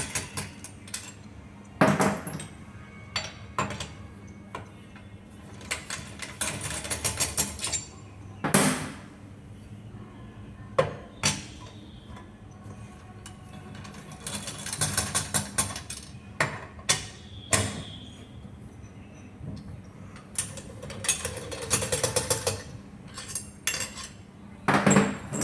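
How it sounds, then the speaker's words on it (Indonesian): Bolts being undone and removed from a manual transmission, heard as scattered metallic clinks, taps and rattles of tools and parts that come in irregular bursts against a quiet background, with no voices. "Kita buka semua baut yang ada pada transmisi ini."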